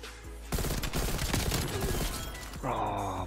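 Automatic gunfire from an AK-74U in Black Ops Cold War, a dense sustained burst of rapid shots lasting several seconds, close and loud, trailing off into a short tonal game sound at the end.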